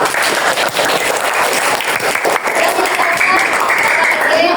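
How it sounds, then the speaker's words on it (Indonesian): Classroom children clapping for themselves, a dense burst of applause filling the room at steady strength, loud and near throughout. "Jadi tepuk tangan dulu untuk diri kita sendiri."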